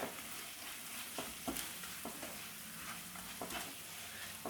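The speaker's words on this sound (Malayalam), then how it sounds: "എല്ലാം കൂടെ നന്നായിട്ട് തന്നെ ഒന്ന് മിക്സ് ചെയ്ത് കൊടുക്കാം ഈ ഒരു പൊടികളുടെ പച്ചമണം ഒന്ന് മാറി വരട്ടെ" Spice powders and pepper stirred and frying in a pan for chicken majboos, a steady close sizzle with a few scraping stirs of the spoon, no voices.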